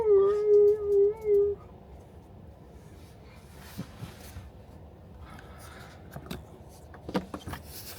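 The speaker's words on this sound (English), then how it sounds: "Were you howling again?" A dog gives a brief, wavering howl that fades after about a second, followed by a quiet interior with faint scattered clicks and rustles.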